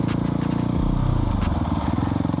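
A Husqvarna 701 motorcycle with an Arrow exhaust and a quickshifter run at full throttle, its loud, close engine rising through the revs with a sharp shift break and rapid exhaust pulses.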